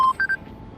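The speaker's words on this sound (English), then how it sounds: "Sounds like a phone." A burner phone in a VRChat roleplay game gives three short electronic beeps, one longer tone followed by two quick higher ones, clear and fairly close.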